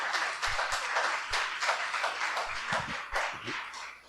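A church congregation claps in praise to God during a Portuguese-language sermon, a loose burst of hand claps that carries on steadily for several seconds.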